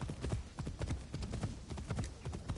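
Horse hooves clip-clopping at a steady walking rhythm in the Assassin's Creed Shadows video game, a continuous run of soft, evenly spaced hoofbeats heard alone at moderate distance.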